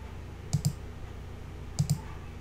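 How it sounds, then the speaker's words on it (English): A computer mouse clicks in two quick double-click pairs, crisp and close, separated by a pause over a faint background hum. "from here I can just click"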